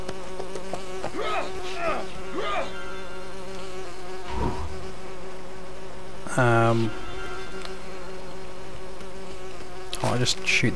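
Bees buzz steadily around a beehive in the Lego Lord of the Rings video game, a continuous droning hum broken by a few sharp game effects.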